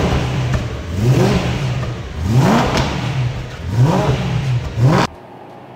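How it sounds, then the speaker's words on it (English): A rebuilt BMW E92 M3 engine, brought back after a crash, revs loudly and close up in three rising sweeps, each climbing and dropping back, before it cuts off abruptly near the end. "And then the car started running."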